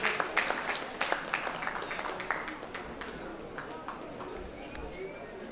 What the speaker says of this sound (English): With a round of applause, can we please have her on stage?